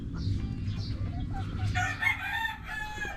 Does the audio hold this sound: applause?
no